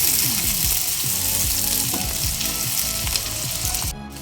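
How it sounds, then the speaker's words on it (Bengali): Chopped onions frying in hot oil over a medium flame while being stirred, a loud, steady close-up sizzle broken by the scrape of the spoon. "পেঁয়াজ সব দিয়ে দেব মিডিয়াম ফ্লেমে নেড়ে ছেড়ে পেঁয়াজ ভেজে নেব"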